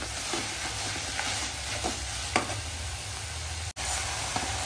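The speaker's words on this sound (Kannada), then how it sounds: "ನೆಕ್ಸ್ಟು ಗರಂ ಮಸಾಲ ಎಲ್ಲ ಹಾಕ್ಕೊಳ್ತಿದ್ದಾರೆ. ಸ್ವಲ್ಪ ಸ್ವಲ್ಪ ಫ್ರೈ ಆದರೆ ಸಾಕು" Garam masala spices fry in a hot pan with a soft, steady sizzle, broken by a few faint stirring scrapes. No one speaks.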